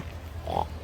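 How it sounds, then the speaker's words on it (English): Big pigs at a wild animal park give a single short grunt, close and fairly loud over a low background hum. "We got some big pigs."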